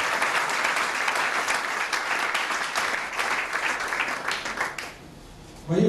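A church congregation applauds, loud sustained clapping from a crowd that carries on for about five seconds, then drops away briefly before a voice cuts back in.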